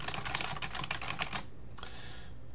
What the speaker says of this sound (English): So now I'm ready to start typing.